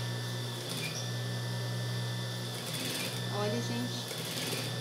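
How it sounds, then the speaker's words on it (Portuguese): Sewing machine running steadily as it stitches around the edge of a baby's diaper-cover garment, a close mechanical whir with someone speaking briefly over it. "vamos costurar aqui todinho ao redor da carinha da nossa calcinha"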